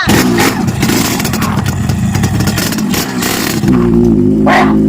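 A motorcycle engine revs loudly and roughly up close, the pitch rising and falling before settling into a lower throb.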